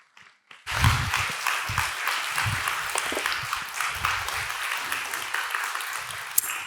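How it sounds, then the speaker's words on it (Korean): Warm audience applause at a church revival meeting as a missionary comes forward: after a brief quiet start, dense steady clapping from a full room swells in and carries on evenly to the end. "우리 선교사님 나오실 때 여러분 뜨거운 박수로 환영해 주시기 바랍니다"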